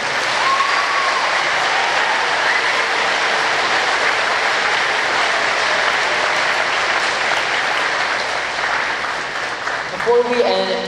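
A school audience at a high school Veterans Day program claps loudly and continuously in sustained applause, which tapers off near the end.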